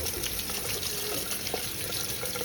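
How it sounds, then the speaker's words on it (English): Cold tap water runs steadily over blanched garden carrots in a kitchen sink, a continuous close hiss of rinsing with no one talking. "Rinsing them with cold water."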